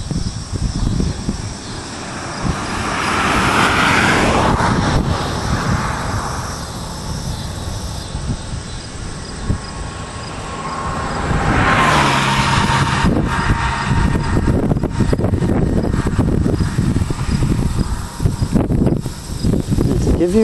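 Steady southerly wind blowing during a summer thunderstorm, a loud, continuous broadband rush that swells and eases over about twenty seconds, with faint insect chirping underneath.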